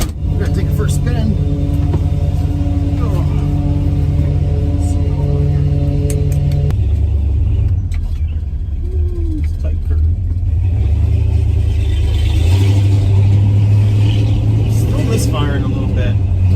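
A pickup truck fitted with a horsepower upgrade drives along, its engine rumbling loud and steady, then revving harder near the end as it accelerates.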